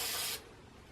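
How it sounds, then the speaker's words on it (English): Quick light burst of Blair low odor workable fixative sprayed over a pastel painting, a soft close hiss lasting about a third of a second before cutting off into quiet room tone. "very quick light spray,"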